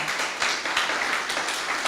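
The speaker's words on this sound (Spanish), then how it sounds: "Dale un aplauso al Señor" A church congregation claps together during a Spanish-language worship service, a dense, even wash of applause lasting a couple of seconds with no voices on top.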